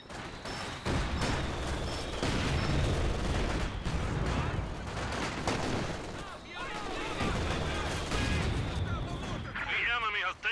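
Heavy mortar fire thuds and booms in a battle video game, a continuous roar of explosions and gunfire with voices talking over the din.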